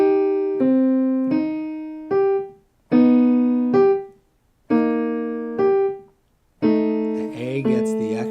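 Piano playing a passage from a song, a run of repeated chords struck in short phrases separated by brief pauses, close and clear with no voices.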